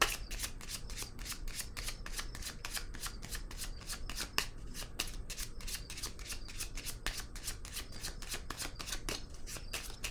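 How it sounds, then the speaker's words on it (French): Tarot cards are shuffled and handled in a steady, rapid riffling flutter of crisp paper slaps, close and continuous, before being laid down, with no voices. "je vais déposer une autre carte ici."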